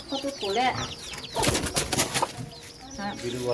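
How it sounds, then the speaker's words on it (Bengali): Chickens in a village coop cluck and squawk up close, with a burst of flapping and louder calls in the middle that then settles back into scattered clucks. "মুরগির ঘর।"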